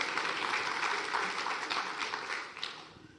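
Audience at an evening event gives soft, steady applause that tapers slightly toward the end, heard somewhat distant and without speech over it.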